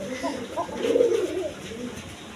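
Pigeon cooing from a pair of colored pigeons kept for sale, a soft, low, repeated burbling coo at close range, swelling around the middle of the clip over a faint background hiss.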